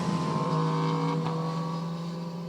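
Steady engine and exhaust drone from a vehicle on a road near Audi SUVs, a loud sustained tone with a brief swell in the middle as it goes by, with no talking.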